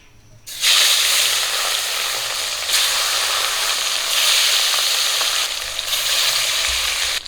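Rohu fish hits hot oil in a wok and a loud, close, continuous frying sizzle and hiss erupts, swelling in a few waves and holding steady to the end.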